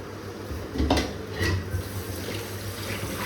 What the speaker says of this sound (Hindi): ये आलू धुलाई करते हैं